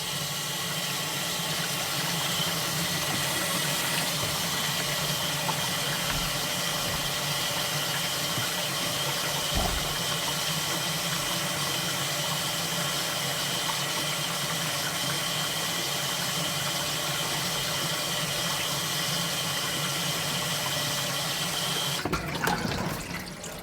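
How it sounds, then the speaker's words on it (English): Water running through RV plumbing after the supply is turned on, a steady, loud broadband rush that continues evenly throughout, with a brief thump near the middle and a change in the flow right at the end. "I'm going to turn the water on and see if we have any leaks"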